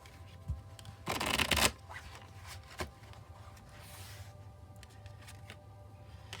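Angel oracle cards are shuffled and drawn in a quiet room, a brisk burst of riffling cards followed by soft taps and slides as a card is pulled out.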